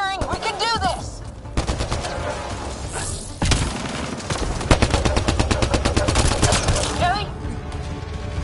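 Rapid automatic gunfire bursts in a Mass Effect: Andromeda battle, loud dense volleys with booming impacts layered over music, pausing briefly before resuming, with voices shouting among the shots.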